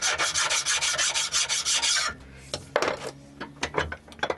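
A file rasps rhythmically back and forth across the edge of a metal frame to remove a burr, about ten quick strokes, then a few scattered scrapes and clinks.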